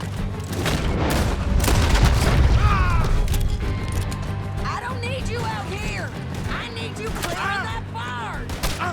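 Gunfire and booming blasts erupt in a Red Dead Redemption 2 shootout, dense and loud, mixed with game voices, a crash and mechanical noise throughout.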